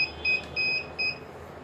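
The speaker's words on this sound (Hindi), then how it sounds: "इसके अंदर मैंने हार्ड डिस्क कनेक्ट नहीं किया हुआ है, इसलिए ये बीप आ रहा है।" A DVR with no hard disk connected sounds three short electronic beeps in a steady repeating pattern, clear and close, with no talking.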